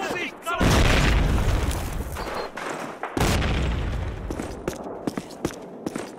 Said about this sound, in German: Dann können wir schön mal eine Granate oben reinschmeißen.